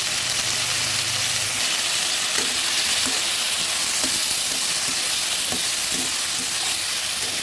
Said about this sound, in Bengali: এবার সামান্য নুন এবং একটুখানি হলুদ গুঁড়ো দিয়ে প্রথমে ভেজে নেব